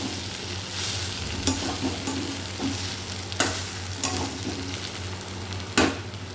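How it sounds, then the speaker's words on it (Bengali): Papaya roasts in a dry pan with no water, giving a continuous close sizzle. Occasional scraping strokes from stirring cut through at irregular intervals. "পেঁপে পোড়ানো।"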